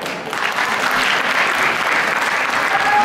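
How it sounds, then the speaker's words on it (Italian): Audience applause for the presenters at a live show, a loud, dense and steady wash of clapping from a large crowd throughout. "Un applauso più forte per i presentatori"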